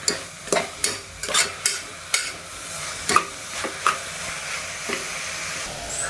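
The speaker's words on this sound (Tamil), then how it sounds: "இப்போ நல்லா நம்ம வந்து கருப்பு விடாமல் ஹை ஃப்ளேமில் வச்சு கொஞ்சம் வதக்கிக்கலாம்" Beef with tomato, onion and ginger-garlic paste sautéing in a pan over a high flame, a steady sizzle broken by repeated scraping stirs at an irregular rhythm, close and fairly loud with no talking.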